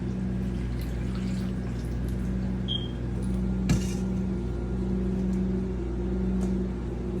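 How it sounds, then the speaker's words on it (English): Melted butter is poured into a seafood boil: a steady low simmering and pouring wash runs throughout at moderate level, with one brief clatter midway and no talking. "We're gonna go ahead and take our butter, pour that in."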